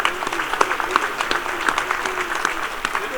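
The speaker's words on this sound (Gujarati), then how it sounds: "સૌ આપણે તાળીઓથી વધાવીએ." An audience at an inauguration celebration breaks into applause, a dense patter of many hands clapping with a few sharper individual claps standing out, moderately loud and sustained.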